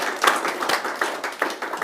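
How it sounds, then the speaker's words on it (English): A crowd applauds with steady, dense clapping throughout, moderately loud and a little distant. "It's a big round of applause."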